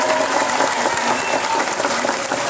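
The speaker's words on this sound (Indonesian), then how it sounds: "Tepuk tangan untuk beliau." An audience at a large Islamic religious gathering in Taichung, Taiwan, gives a brief, loud round of clapping, a dense, even roar of hands filling the hall without a break.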